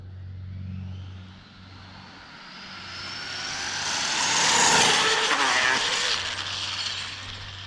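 An Arrma Typhon RC car makes a high-speed pass at around 110 mph outdoors, its electric motor whine rising to a loud shrieking peak as it goes by, then fading away over a steady background hum.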